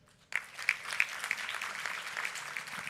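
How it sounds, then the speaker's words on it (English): An audience at a convocation applauds gold medal winners, a dense, steady clapping that starts abruptly after a brief quiet moment and carries on evenly, moderately close. "Big applause for them."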